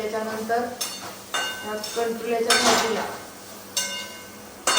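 Vegetables being stirred in a pan after salt goes in, with repeated scraping and clinking strokes and a light sizzle, while voices talk over the mixing.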